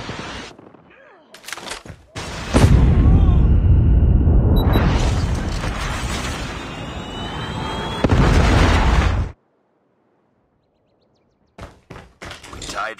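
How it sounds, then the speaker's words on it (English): A Predator missile strike in Call of Duty multiplayer lands as a loud, sustained booming roar of explosions lasting several seconds, ending abruptly, with short thuds before it and quiet game sounds after. "Be advised, hostile Predator missile inbound."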